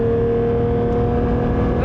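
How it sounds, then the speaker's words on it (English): A Porsche 911 S/T (992) engine cruising in sixth gear around 4,000 RPM, a steady, loud droning hum with a constant tone and no change in pitch, heard from inside the car. "So you've got the engine making a lot of noise on longer runs."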